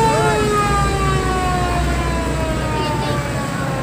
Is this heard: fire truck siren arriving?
yes